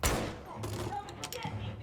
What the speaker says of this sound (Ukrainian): Буду стріляти, значить, з пістоля.